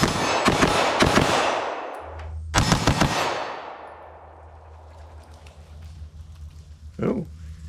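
An Atlas EOS compact 9mm handgun fired rapidly: a quick string of loud, sharp shots, a second tight cluster a moment later, then ringing echoes and a low hum fading behind a single faint knock.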